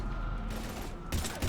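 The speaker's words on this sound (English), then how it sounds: "Taking heavy fire." Gunfire in the Mass Effect 3 video game during a fight against Husks: a short, dense barrage of overlapping shots, loud and continuous with a sharper burst near the end.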